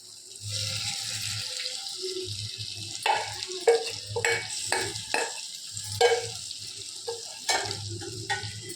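Ingredients frying in a home kitchen pan are stirred with repeated scraping strokes over a steady low sizzle, the spoon hits coming in irregular bursts with no voices.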